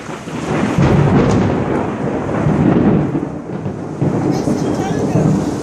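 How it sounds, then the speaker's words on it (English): Deep, rolling thunder rumbles continuously over steady rain, with a low, heavy roar swelling and fading across the scene. "I hear thunder."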